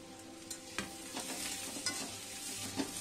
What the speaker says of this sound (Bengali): এই সময় আমি আদা আর রসুনটা এর সাথেও ভেজে নেব একটু।